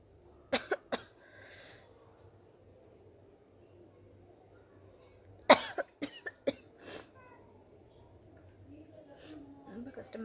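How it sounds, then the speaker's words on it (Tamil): Repeated coughs during a sneezing attempt, several sharp bursts near the start and a tight cluster of coughs midway, with faint background noise and breathing between them. "ரொம்ப இருமல் தான் வருது"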